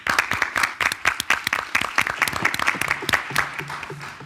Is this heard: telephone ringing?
no